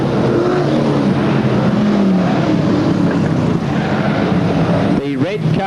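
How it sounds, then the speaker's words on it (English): Hot rod race cars in a handicap feature drone steadily around the track, a loud continuous engine roar with wind buffeting. An announcer talks over it near the end. "Red car number 16 going down the back straightaway is the race leader of the hot rod handicap feature"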